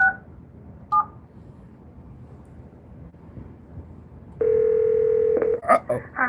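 Telephone keypad dialing: a brief pair of tones, then a steady touch-tone held for about a second, followed by several quick tone bursts, heard over a low background murmur.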